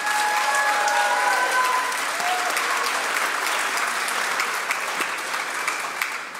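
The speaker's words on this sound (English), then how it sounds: "let's get an extra special round of applause for our two soloists, Jeanette and Bryden." Dense, sustained applause from the audience at a middle and high school spring choir concert honouring two soloists, steady and full throughout and easing slightly toward the end.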